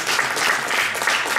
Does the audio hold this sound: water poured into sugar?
no